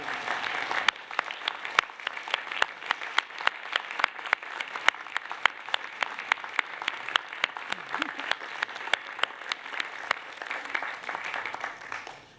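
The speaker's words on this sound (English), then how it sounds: "how about you give them a rousing round of applause?" A graduation ceremony crowd applauds steadily, many hands clapping in a dense, sustained patter at moderate distance, tapering off at the end.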